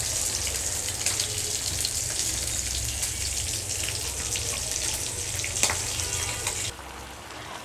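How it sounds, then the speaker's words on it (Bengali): Potato pieces fry and sauté in hot oil in a pan while a fish curry is being prepared, a dense continuous sizzle close up that stays steady and then drops away abruptly near the end. "তো আলুটা দেওয়ার পর আমি আলুটা সেদ্ধ হওয়া পর্যন্ত এটা কষিয়ে নিতে"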